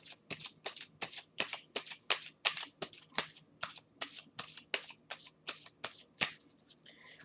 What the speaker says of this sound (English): I'm just shuffling this other deck